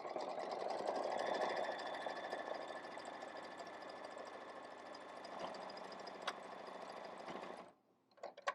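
An embroidery machine stitches a tack-down line on fabric in a hoop, a steady loud mechanical whir running continuously for nearly eight seconds before stopping abruptly, followed by a few faint clicks.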